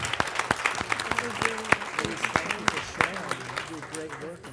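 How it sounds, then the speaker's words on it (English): Applause from a board meeting audience for a group of first graders, a moderate patter of clapping hands with sharp individual claps standing out and a low voice speaking underneath throughout. "Let's give these guys a round of applause."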